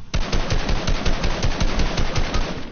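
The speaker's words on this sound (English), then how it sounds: "Yep, he sniped me." Rapid, rhythmic bursts of gunfire in an online video game, loud and close, firing continuously for a few seconds with no talk over it.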